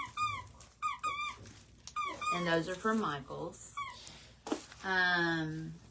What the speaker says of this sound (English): That's my dog back there, by the way.